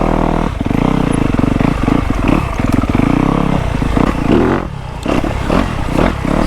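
A dirt bike engine during trials riding over a rock section, loud and close with sustained revving and throttle surges, dipping briefly before picking back up.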